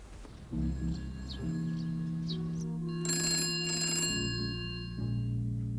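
A telephone rings repeatedly with no answer, its ringing tones sounding over a steady low hum in a quiet indoor setting, 1970s British drama.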